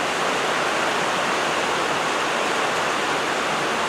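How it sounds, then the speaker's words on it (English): Heavy rain falls on a tin roof at an off-grid house, a dense, steady hiss that fills the space evenly and stays loud throughout, with no talk over it. "I love the sound of rain on a tin roof."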